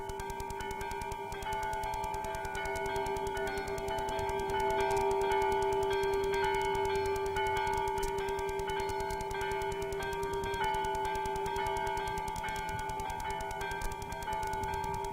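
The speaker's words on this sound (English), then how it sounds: "The mission bells continue to peal." Mission church bells peal continuously, their sustained ringing tones overlapping in a steady wash of sound that carries on without pause.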